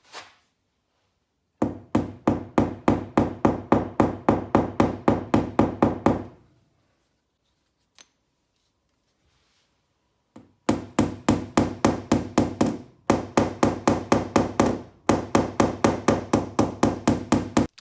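Rapid, evenly spaced taps of a crown slapper hammer on a car body panel during paintless dent repair, in several long bursts of steady rhythm separated by short pauses, close and sharp.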